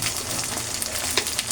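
Ginger garlic paste fries in hot oil, a steady close sizzle with crackling pops and no talking.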